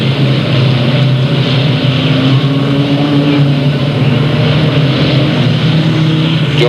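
Volkswagen and Ferrari race cars competing at Delta Speedway, a loud, continuous engine drone with steady humming tones that persists throughout, with no speech.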